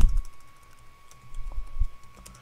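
Fingers type on a computer keyboard while entering text into a Google Docs spreadsheet, producing quick, close, irregular bursts of key clicks and taps with short pauses in between, alone in a quiet room with a faint electrical hum.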